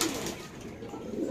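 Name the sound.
pigeons cooing at a pigeon farm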